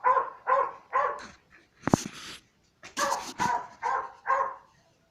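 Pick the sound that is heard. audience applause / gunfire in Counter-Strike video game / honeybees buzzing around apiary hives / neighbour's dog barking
neighbour's dog barking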